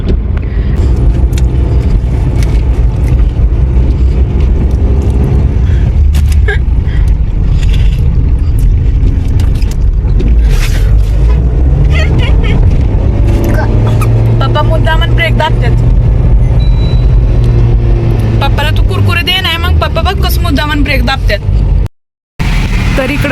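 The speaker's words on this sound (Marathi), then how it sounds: "नॉर्मली ट्रॅफिक कमी झालाय म्हणजे की गाडी चालायला लागल्यात नाही तर थांबूनच होत्या गाड्या" Road traffic easing out of a jam on a crowded holiday hill road, with car and bus engines rumbling close and steadily as vehicles start moving again, and a voice talking over the noise.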